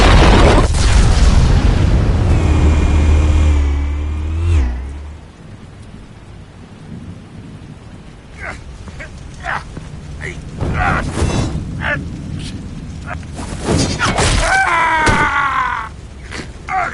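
Loud booming explosives detonate in a PS4 video game, heavy rumbling blasts with rolling low-end roar and scattered crackling debris, a big opening burst fading then rising again near the end.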